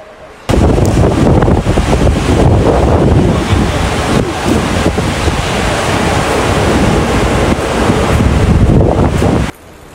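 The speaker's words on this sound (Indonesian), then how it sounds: "Tiba-tiba turun hujan besar banget, beserta anginnya kencang banget" Strong wind and heavy rain batter Merak port at night, a loud, steady roaring wash of gusting wind and downpour that starts abruptly and holds without a break before cutting off.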